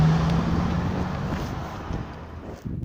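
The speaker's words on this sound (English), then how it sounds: "Windy, horrible, nasty." Wind buffets an outdoor microphone on a blustery day, a continuous broadband rush that slowly eases.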